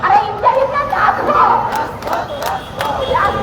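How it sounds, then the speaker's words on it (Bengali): Protesters blockading the Shahbag intersection chant slogans demanding implementation of the July Charter: loud, close, rhythmic group shouting in repeated call-and-response bursts. "মোড়ে তারা অবস্থান নিয়েছে এবং অবস্থান নিয়ে তারা তাদের যে দাবি সেই দাবি আদায়ে বিভিন্ন স্লোগান দিচ্ছেন"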